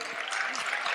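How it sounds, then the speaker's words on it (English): Brief burst of audience applause at a stand-up comedy show, a second of dense, even clapping from a crowd. "please applaud for Mr. DeLay"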